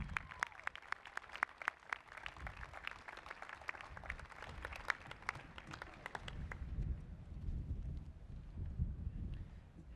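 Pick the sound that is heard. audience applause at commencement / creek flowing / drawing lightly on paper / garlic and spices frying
audience applause at commencement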